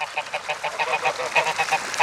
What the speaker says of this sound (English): So the pond, all the birds are enjoying the pond.